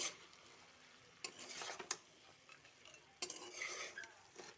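Goat head curry with tomatoes is stirred in a pan over low heat and dry-fried without water, giving quiet scraping strokes in a few bursts over a faint sizzle.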